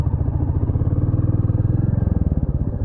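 A motorcycle rides along an empty highway near Kodaikanal, its engine running steadily up close with a rhythmic low throb that pulses faster toward the end, with no talking.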